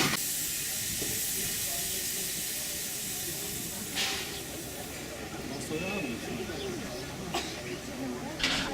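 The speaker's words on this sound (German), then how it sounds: "Als Krönung eine Scheinanfahrt mit prächtiger Dampfentwicklung." Museum steam locomotive Lok 2 "Nürnberg" of the Dampfbahn Fränkische Schweiz at Behringersmühle, releasing a broad, steady hiss of steam during a staged departure, with a few short sharper bursts and a faint voice in the background.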